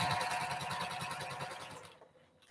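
A sewing machine runs steadily in a rapid, even chatter, stitching quilt fabric along a quarter-inch seam for postal stamp quilt blocks, then slows and falls quiet near the end.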